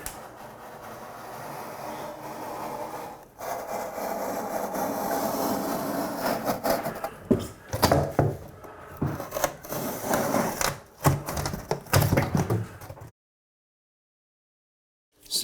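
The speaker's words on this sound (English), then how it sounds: "working with curdy board is that it cuts with a utility knife" A utility knife scores and slices through Kerdi board in a string of close scraping, crackling cuts with short pauses between strokes, ending in silence.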